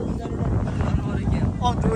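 Strong wind blows outdoors on an open, exposed spot, a low, heavy rumble buffeting the microphone throughout at close range.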